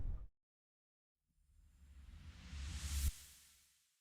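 Impulse response heavily boosted with extreme low-end EQ: a short deep thump, a pause, then a slowly swelling dark whoosh that builds to a sharp low impact and fades, quiet overall.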